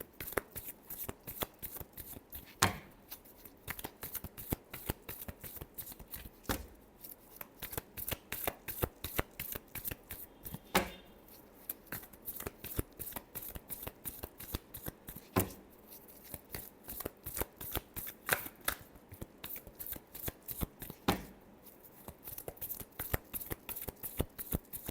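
Tarot cards shuffled by hand in long runs of rapid crisp riffling clicks, each pass ending in a sharper snap, close and alone with no talk.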